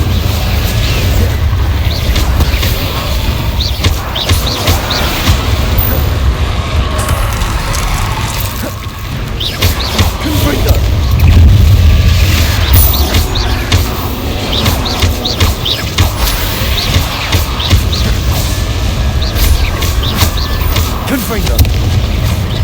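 Repeated Confringo blasting spells fire off in Hogwarts Legacy, giving a run of booming explosive bursts over a steady low rumble of game combat, with voices mixed in.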